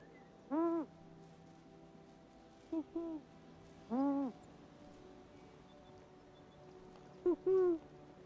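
An owl hoots in a medieval survival video game: a handful of soft, evenly pitched hoots spaced a few seconds apart, some doubled, over a quiet ambient background.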